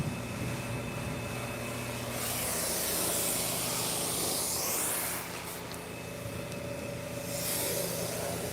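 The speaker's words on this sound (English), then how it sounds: "Spray this on the mirrors." Repeated bursts of hissing cleaner spray from a bottle onto the mirrors of a 2018 Mercedes S63 AMG, close and steady, over a constant background hum.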